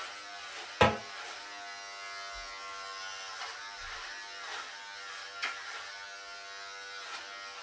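An electric shaver buzzes steadily through a chihuahua's fur, a close, continuous hum with a sharp knock near the start and another soft bump later.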